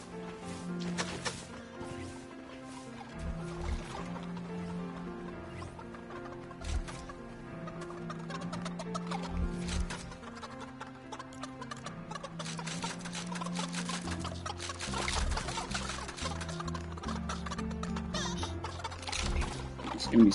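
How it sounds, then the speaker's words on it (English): Chickens clucking in a Fortnite tycoon game, busy overlapping game clucks and clatter running continuously and fairly loud under a dense mix of other game sounds, with no talking. "Eat up, my little chickens."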